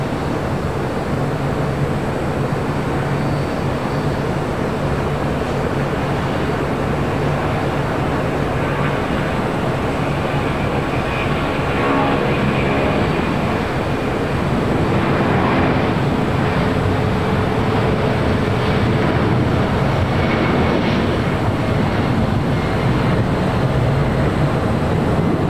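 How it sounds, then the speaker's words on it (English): A Delta Airlines Boeing 757-200 takes off from the south side at LAX, its jet engines making a loud, continuous roar that swells and rumbles steadily for the whole stretch, with no talk. "Next takeoff here on the south side, Delta Airlines flight 715 heading to Atlanta, Georgia,"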